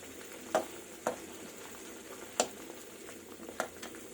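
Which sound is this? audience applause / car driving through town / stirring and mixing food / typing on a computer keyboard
stirring and mixing food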